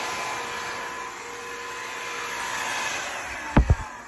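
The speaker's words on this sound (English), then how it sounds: "which I usually use my trusty JRL blow dryer, and it gets the job done" A barber's JRL blow dryer runs steadily with a constant high-pitched whine and airy rush, then two short thumps near the end.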